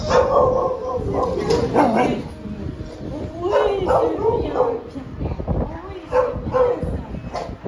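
A shelter dog barks and yips in short bursts, with whimpering in between, close by; a person talks over the dog in French.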